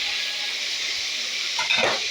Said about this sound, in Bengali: কি জোরে ফাটছে দেখতেই পাচ্ছেন, কতটা দূরের থেকে আমি মাছ ভাজছি